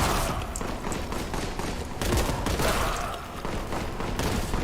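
Gunfire rattles in the video game Warhammer 40K Boltgun, with dense bursts of shots and explosions and repeated sharp impacts in a continuous, loud barrage.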